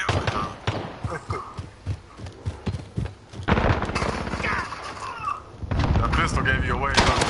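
Pistol shots in Call of Duty: Warzone, sharp single cracks scattered among other in-game gunfire and effects, with a denser burst of firing partway through and another toward the end.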